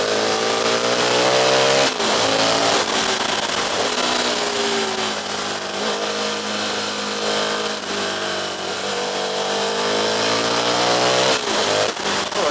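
An Aprilia RSV 1000 Mille V-twin sportbike engine drones loudly and continuously while riding, its pitch rising and falling with gear changes and throttle, mixed with rushing wind.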